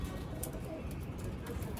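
Young pigeons, squabs still losing their down, coo softly in a loft among older flying birds, a faint low murmur with no talk over it.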